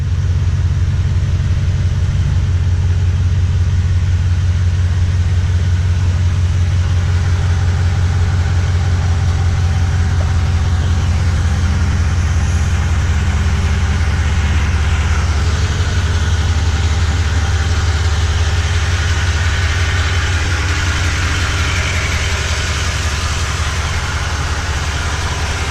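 A Toyota Tundra pickup truck idles and backs out, its engine holding a steady low rumble throughout with a slight shift in pitch partway through, close and continuous with no talking.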